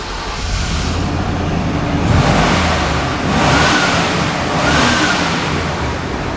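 Engine of a 2000 Chevrolet Tahoe running after a throttle position sensor repair, a steady rumbling drone that swells in a few slow surges, heard alone without talk.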